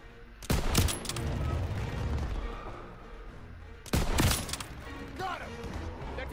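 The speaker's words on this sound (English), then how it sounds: "They're taking fire from behind." Gunfire in Call of Duty WWII: two loud bursts of close weapon fire several seconds apart, each a sharp crack trailing into rumbling battle noise, with a hum of combat in between.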